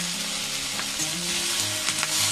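Cauliflower and vegetables fry in hot oil seasoned with turmeric and salt, giving a loud, dense, continuous sizzle close by with faint stirring scrapes and no talking.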